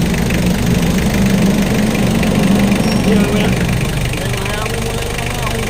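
Mitsubishi Adventure engine running and revving steadily, a loud continuous low rumble with slight rises in pitch, talk faintly under it.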